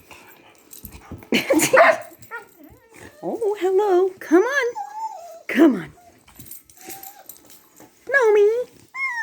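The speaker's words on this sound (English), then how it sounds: "Look at your happy dog." A happy dog whimpers and whines in high, wavering bursts, several short cries spread through the stretch, mixed in with a person talking to it nearby.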